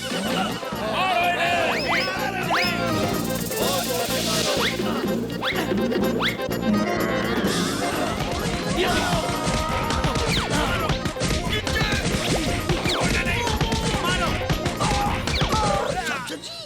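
A kids' cartoon brawl from the Chacha Bhatija series, with a busy, continuous stream of whacks, smashes and thuds mixed with squeaks, a horse-like whinny and shouting voices throughout.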